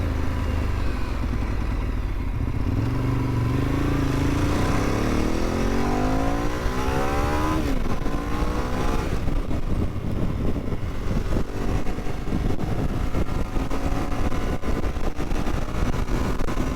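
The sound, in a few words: Ducati 848 motorcycle engine revving with stock exhaust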